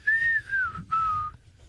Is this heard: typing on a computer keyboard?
no